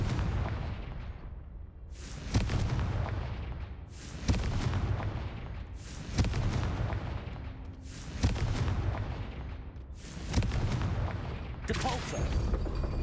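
Confringo explosion spells in Hogwarts Legacy go off six times at roughly two-second intervals, each a loud close blast with a long rumbling decay.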